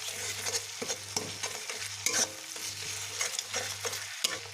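Tomato masala with cumin paste and dried red chilli paste frying in a pan for a small-fish curry, a steady close sizzle broken by repeated spoon scrapes and stirring knocks.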